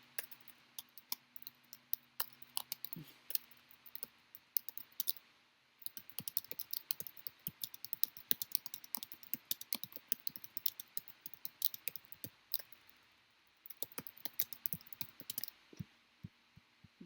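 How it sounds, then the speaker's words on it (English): Typing on a computer keyboard while editing a resume document, with rapid quiet key clicks in irregular bursts and brief pauses, close and alone with no talking. "And just type"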